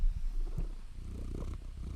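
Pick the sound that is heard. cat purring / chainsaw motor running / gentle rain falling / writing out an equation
cat purring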